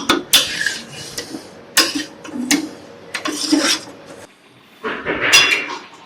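Fried potatoes go into a pot of Bengali mutton curry with sharp metal clanks and utensil clatter against the pot, several separate bursts over a few seconds.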